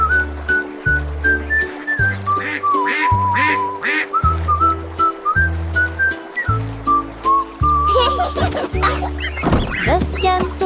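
Cartoonish duckling quacks pop up again and again through a bouncy children's nursery song, riding over a steady thumping bass line and a bright whistled melody, fairly loud and up front.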